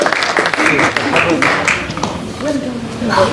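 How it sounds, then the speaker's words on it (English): Wedding guests applaud after a speech, a broad wash of clapping from a room of people with voices and chatter mixed in throughout. "Give that man a round of applause."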